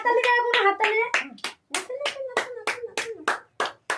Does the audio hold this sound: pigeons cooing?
no